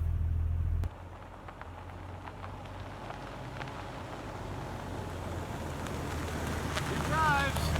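A 1998 Jeep Grand Cherokee ZJ, just back from an oil change, drives on a test run with a steady low engine and road rumble plus wind noise, and a brief squeak near the end.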